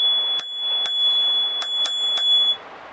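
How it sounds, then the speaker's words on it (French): A bicycle bell on a Mokwheel Mesa Lite 2.0 urban electric bike rings several times in quick succession, bright close dings over a steady tonal hum, with no talk. "La sonnette elle est là."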